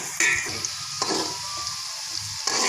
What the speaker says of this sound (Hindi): प्याज पक रहा है